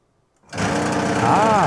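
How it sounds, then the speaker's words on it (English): A pinball machine's shaker motor starts up during a test, kicking in suddenly after near silence and settling into a loud, steady buzzing rumble that rises slightly in pitch toward the end. "let's hit that shaker motor test again"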